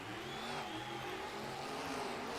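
Two race trucks launch off the start line at an East Rutherford, New Jersey all-star event, engines roaring steadily and loudly together as they accelerate away, a continuous dense mechanical drone with no voices.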